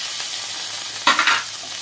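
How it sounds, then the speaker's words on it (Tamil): Beetroot and garlic sauté in a pan for chutney, a soft steady sizzle broken by one sharp burst of louder crackling and stirring midway before settling back down. "பீட்ரூட்டு பூண்டெல்லாம் போட்டு ஒரு 5 நிமிஷத்துக்கு மேலே நல்லா வதக்கிக்கங்க."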